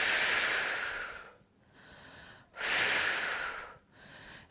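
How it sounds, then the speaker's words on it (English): Two long pursed-lip exhalations during labour, a steady airy hiss like blowing gently on birthday candles, each lasting over a second with a quiet pause between, close and fairly loud with no talking. "you simply keep a nice kind of pursed lip and you're just breathing out a little bit like you're blowing on birthday candles"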